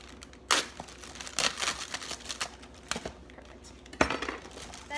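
Sharp rustling and tearing bursts as a plastic bag is cut open with a knife, several crinkly rips spaced irregularly over quiet room background, close and moderately loud.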